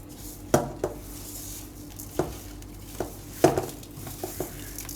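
A spoon mixing mashed boiled potato with bread crumbs in a metal bowl, giving soft scraping stirs and several sharp clinks against the rim at irregular intervals, close and fairly quiet.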